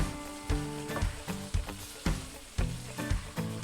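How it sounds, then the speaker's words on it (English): Beef stir-fry with vegetables sizzles steadily in a skillet as the meat warms through, with sharp tossing and stirring scrapes repeating roughly every half second over the constant frying hiss. "toss that meat right back in the skillet with the veggies, just to let it warm through"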